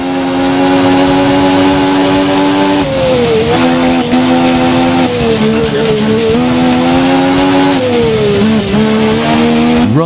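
Motorcycle engines in the Ride video game roar loudly and continuously on a race track, the pitch rising and dipping as the bikes shift and corner, with no voices present.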